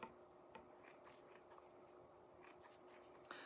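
Scissors snip through rolled strips of old denim jeans, several quiet separate cuts spaced unevenly at close range with a soft rubbing of fabric between them and a sharper snip at the very end.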